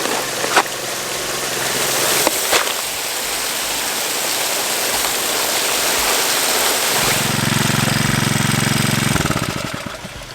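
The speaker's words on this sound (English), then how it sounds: "I have to touch 2 wires together to turn my pump off now" A water pump for gold prospecting runs in hot outback conditions, giving a loud, constant rushing, pulsing drone with splashing water and a few sharp knocks; the engine note deepens near the end, and no one speaks.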